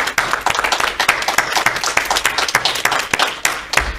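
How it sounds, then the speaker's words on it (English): A congregation at a Sunday spiritual-living service claps for a reverend, steady dense applause with sharp individual claps close by, sustained for several seconds with no talking. "Let's give Reverend June a wonderful round of applause."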